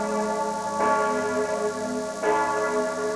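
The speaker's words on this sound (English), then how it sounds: "the steeple bells of Austria echoed each other today, ringing their requiem for those who died." Church steeple bells ringing across a village in the Austrian Alps at a memorial for avalanche victims, two heavy strikes with long ringing overtones sustaining between them, fairly loud and without speech.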